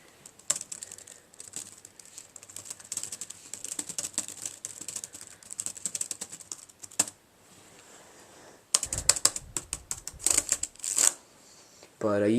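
Typing on a Dell Precision M4400 laptop keyboard, a fast run of close, crisp key clacks with a brief pause before a denser burst of keystrokes.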